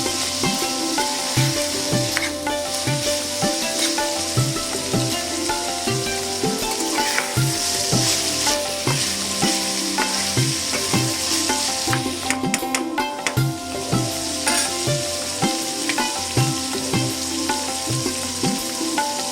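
Dry fish bhuna frying and being stirred in a pan, a steady close sizzle with repeated scraping strokes of the spoon throughout, no voices.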